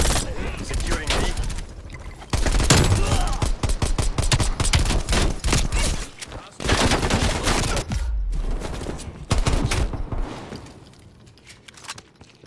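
Pistol gunfire in Call of Duty: Black Ops Cold War cracks in quick, loud bursts and volleys separated by short pauses, with a voice audible at times.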